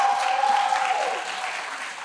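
Audience applause at a plenary session on North Korea's long revolution, a steady wash of clapping that holds for about two seconds and tapers slightly near the end, with a faint voice underneath.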